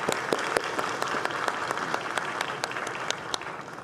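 An audience at a solemn session of the Brazilian Senate honouring accounting professionals applauds with steady, moderately loud clapping in a large hall. A few sharp individual claps stand out above the crowd.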